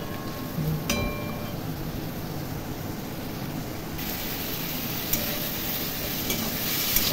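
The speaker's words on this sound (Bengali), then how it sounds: "খুব ভালো করে কষিয়ে নিচ্ছি" Spice masala for a Bengali rohu fish curry with cauliflower and potato sautés in a pan, giving a steady hiss with soft scraping as it is stirred, brightening slightly toward the end, with no talking.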